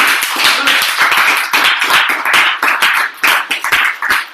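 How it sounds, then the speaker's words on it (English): A round of applause from a gathered group, steady dense clapping for a little over four seconds, fairly loud and close with no talk over it. "Good round of applause, please."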